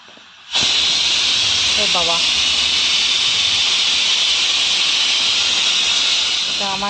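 A pressure cooker cooking rice, lentils, soybean chunks and potato lets out a loud, steady steam hiss that bursts on suddenly and holds for several seconds, with brief chirping sounds in the background.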